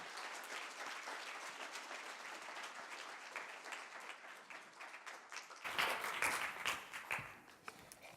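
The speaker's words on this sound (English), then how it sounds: "Please give her a big round of applause." An audience applauds steadily for several seconds, with the clapping growing louder and livelier toward the end.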